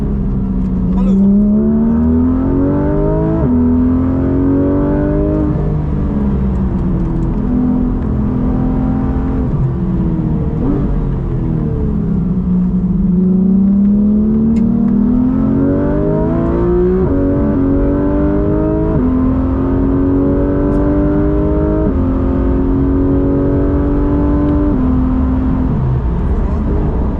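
A Porsche 991.1 GT3 RS on the Val circuit, its engine droning loud and close from inside the car, pitch climbing through repeated gear changes and dipping under braking over nearly half a minute, with an instructor talking over it.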